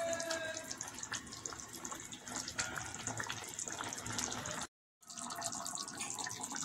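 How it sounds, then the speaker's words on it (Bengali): A pot of Bengali giant taro and barramundi fish curry bubbling as it boils, a steady watery simmer with soft gurgles and small pops that runs continuously, broken once by a brief silent gap. "এবার খানিকক্ষণ ফুটতে দেব।"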